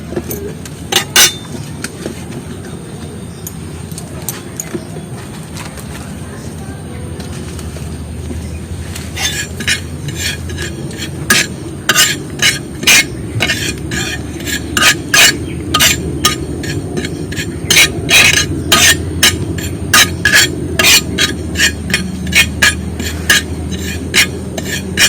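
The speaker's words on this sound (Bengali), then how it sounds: "সম্পূর্ণ কালো করে ভেজে নেব।" Tea leaves frying and being stirred in a smoking pan until fully blackened, heard as repeated close metallic scrapes and clinks of a spoon against the pan over a low sizzling hiss, growing busier midway.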